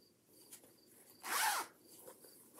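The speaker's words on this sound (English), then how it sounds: "See, the zipper works and everything." A zipper on a vinyl-front fabric pouch made with pink flamingo fabric is pulled in one quick, close rasping stroke lasting under half a second, with quiet room sounds before and after.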